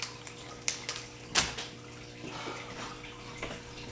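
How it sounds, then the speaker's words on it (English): Water runs from a tap as hands are washed, splashing and shifting irregularly with a few sharp knocks and clunks, close and fairly quiet, with no talking. "I'm probably gonna go wash my hands"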